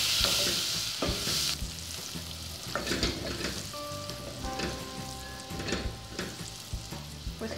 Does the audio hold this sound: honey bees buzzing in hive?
no